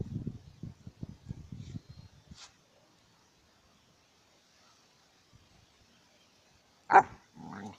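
A female mixed-breed dog gives a single sharp bark near the end, after a stretch of indoor talking and then quiet.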